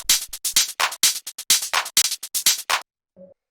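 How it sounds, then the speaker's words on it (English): A tech house percussion loop plays up close: crisp claps and clicky hits in a tight, syncopated groove, then cut off into silence with one faint low blip after. "the last stuff that we have down here is just the percussion"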